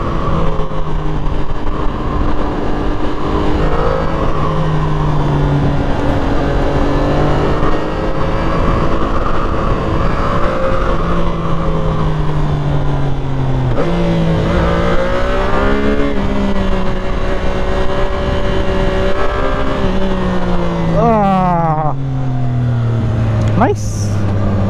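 A CFMoto 675SR inline-three sportbike drones under way, its engine note climbing and dropping through gear changes with sharp revs near the end, loud and constant under wind noise while a rider talks over it.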